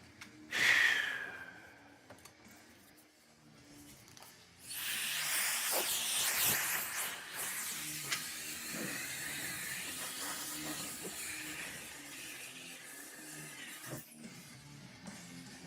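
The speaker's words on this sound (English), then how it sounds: "Oh, I got to get my blower here." An air blower gives a long, steady hiss that starts abruptly partway through and continues loud at first, then eases slightly, after an earlier short squeak.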